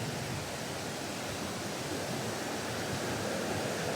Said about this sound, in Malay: Cantiknya sungai.